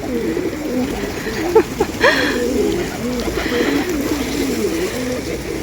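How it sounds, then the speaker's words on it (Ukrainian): Pigeons coo steadily and close by in soft, repeated warbling calls, with a few wing flutters and faint background murmur. "Люди голубів кормлять, і вони дивіться, що тут роблять."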